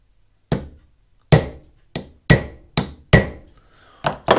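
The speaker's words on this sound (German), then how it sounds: "Dafür nimmt man jetzt einen kleinen Amboss und einen brauchbaren Hammer, legt dann die Kante hier ein wenig auf" A hammer strikes the blade of a Japanese hand plane resting on a small anvil, six or seven sharp metallic blows spaced irregularly with short ringing decays, close and loud with no talk.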